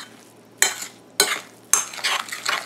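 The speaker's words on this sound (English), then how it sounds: "Mixing all this together." Yogurt is stirred into a cauliflower pizza dough in a bowl, giving three distinct scraping, squelching strokes, the last running into a longer stretch of mixing, close and moderately loud.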